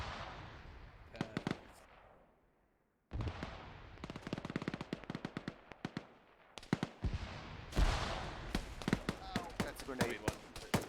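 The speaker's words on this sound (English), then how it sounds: "That's a grenade." Arma 3 combat: bursts of sharp gunfire crackle in rapid clusters, broken by short silences, with a louder blast that fits a grenade explosion. A voice is faintly audible among the shots.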